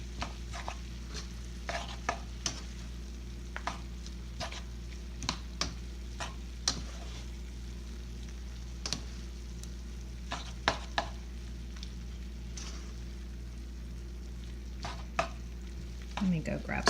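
Shrimp and pasta stirred together in a pan with a quiet background hum and scattered sharp clicks and scrapes of the utensil against the pan, growing busier near the end.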